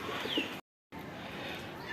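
On a hot rooftop, pigeons give a soft, low cooing over faint outdoor ambience. The sound cuts out briefly in the middle before the quiet background returns.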